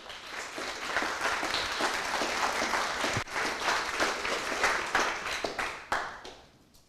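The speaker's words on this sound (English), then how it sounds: "Big round of applause to them" Round of applause for the Flutter team at a makers careers fair, a moderate indoor crowd clapping steadily, then thinning and fading away at the end.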